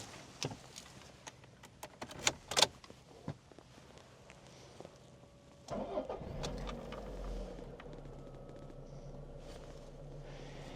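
A 1998 Toyota Caldina wagon with a 5-speed manual is started from inside the cabin: a few clicks and taps, then the starter cranks and the engine catches into a steady, moderately loud idle.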